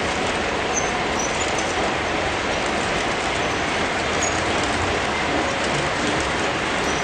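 MTH model coal train rolling along the track, a dense, steady rumble and rattle filling the whole stretch at close range, with faint high squeaks over it and no talk.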